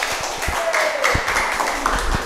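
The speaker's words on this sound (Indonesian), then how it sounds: "Tepuk tangan." Students in a classroom clap briefly, a scattered patter of hands under background chatter and room noise, with a few sharper individual claps standing out.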